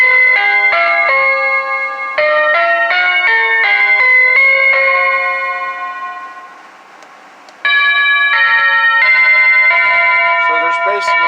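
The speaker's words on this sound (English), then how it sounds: "So, again, it's a battery operated wireless doorbell." A Hampton Bay battery-operated wireless doorbell plays loud, close chime melodies, ringing multi-note tone sequences that decay and then restart, with no one talking over them.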